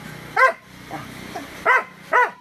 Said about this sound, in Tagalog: Nakain lang ng aso.